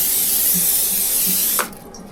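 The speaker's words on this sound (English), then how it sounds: "Just using some spray." Cooking spray hisses steadily from a can onto a pie dish for an apple pie, a continuous close spray lasting about a second and a half before cutting off sharply into a quiet kitchen.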